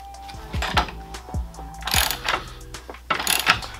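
Ratchet wrench clicks in short bursts, tightening the fork leg bolts on a Derbi Revolution motorcycle during an EBR fork swap, with sharp metallic pawl ticks and a few heavier clanks, close and loud with no talking.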